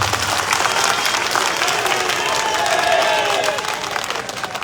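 A crowd claps steadily at an outdoor political rally in Padra, Vadodara district, Gujarat, during a garlanding, a loud sustained wash of applause with a few cheers that eases slightly near the end.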